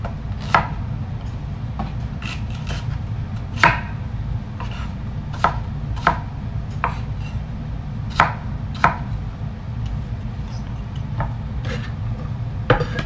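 A knife chops an onion on a board in sharp, irregular strikes, about a dozen over the span, against a low steady background hum.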